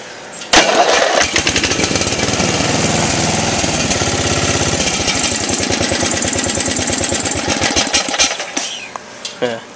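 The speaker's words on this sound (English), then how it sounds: "so now that the battery's charged up probably enough to crank it over, I'm going to try to start it up" An electric starter converted onto a Briggs & Stratton small engine cranks it, and the engine catches into a loud, steady rapid putter that runs for several seconds before winding down.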